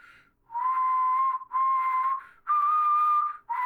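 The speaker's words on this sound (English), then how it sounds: "I'll whistle." A person whistles a warning signal: four sustained, steady high notes in a row, each held about a second with short gaps between, clear and alone.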